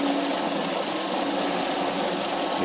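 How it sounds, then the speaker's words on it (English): A 1993 Mercedes 500E V8, a barn find with a repaired throttle, idles at low RPM around 600, a steady even drone close to the mic with no whine. "This is how the engine runs."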